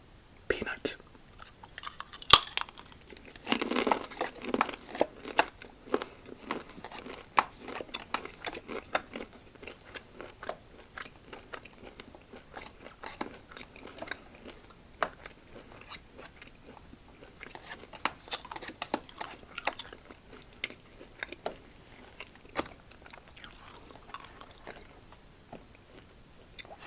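Crunchy salted peanuts are chewed close up in sharp, irregular crunches, with soft quiet talk between bites.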